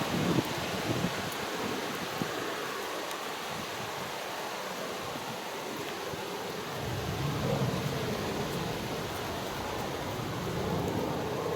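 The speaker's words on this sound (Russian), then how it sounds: "Еще одну ветрозащиту на второй." Close, continuous rustling and scuffing as a furry windscreen is fitted onto a Boya BY-WM8 Pro-K2 wireless microphone, loud and right against the mic.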